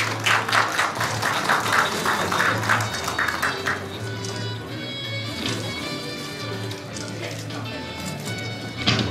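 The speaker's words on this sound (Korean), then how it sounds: "오늘 여러분 큰 박수를 담아주십시오." Audience applause at a Korean award ceremony, with dense clapping loudest at the start and then thinning, while voices talk over it and a steady low hum sits underneath.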